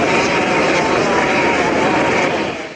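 A helicopter arrives in Kahramanmaraş from Hatay, its engine and rotors giving a loud, steady roar that holds for nearly three seconds and then starts to fade at the end.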